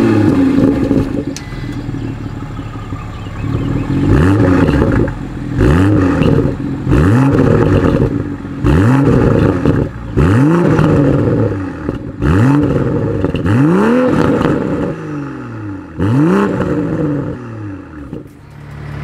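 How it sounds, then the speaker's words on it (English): 2024 Toyota Supra in sport driving mode with its exhaust valves open, revving hard again and again: about eight loud rising roars, each climbing in pitch and dropping off, with brief gaps of engine burble between them. "the sport driving mode is going to open those valves and give you a much deeper sound"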